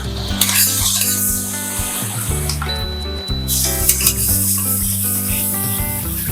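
Garlic paste sizzles loudly in hot oil in a pan, crackling and spitting steadily, with metal utensil clinks and a few scraping stirs over a low background hum.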